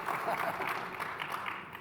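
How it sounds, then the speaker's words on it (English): Applause from a conference audience welcoming speakers: a quiet, steady patter of many hands, distant and low in level, continuing for a couple of seconds. "giving a round of applause."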